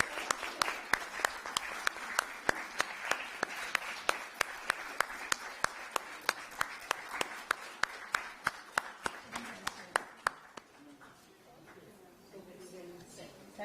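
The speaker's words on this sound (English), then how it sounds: "Big round of applause, please." A conference audience at a women's empowerment event gives a big round of applause: dense, steady clapping with a few sharp individual claps standing out. It carries on for about ten seconds, then fades into a quieter room.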